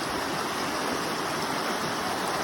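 A stream rushes over slimy, moss-covered rocks and around fallen trees and large boulders that narrow its bed, making a loud, continuous gush of water.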